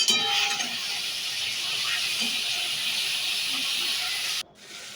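Spiced lentil fritter curry fries and sizzles in a hot pan as it is stirred, a steady bright hiss throughout that cuts off abruptly near the end.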